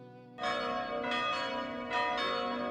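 Cathedral bells in Dubrovnik, Croatia, ring out at 6 in the morning with three loud, resonant strikes spaced about a second apart, their long metallic tones overlapping and sustaining with no voices present.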